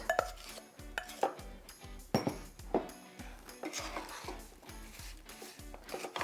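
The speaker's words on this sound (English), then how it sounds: "We're going to add our apples to our butter and spices." Apples tipped into a pan of butter, cinnamon and nutmeg bring a series of clattering knocks and clinks of utensil against the pan, close and fairly sharp, repeating unevenly.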